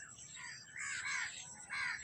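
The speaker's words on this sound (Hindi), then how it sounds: "कोयल भी अपने नज़में गा रही है, सुना रही है" An Asian koel sings among the trees of a mango garden, its clear repeated calls rising over steady outdoor ambience in a few separate phrases at moderate distance.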